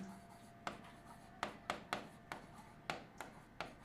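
A marker or chalk taps and strokes on a board in a quick series of about ten short, crisp knocks, close and fairly faint, during an accounting class lesson.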